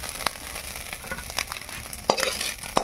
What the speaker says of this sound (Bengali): চিংড়ি ভাজার কাজ চলছে।